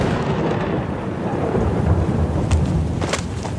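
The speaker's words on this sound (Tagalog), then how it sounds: "Bugso ng ulan at dagundong ng kulog ang huli niyang narinig" Heavy rain pours down with deep rolling thunder rumbling through it, a dense continuous storm roar with brighter crackles near the end.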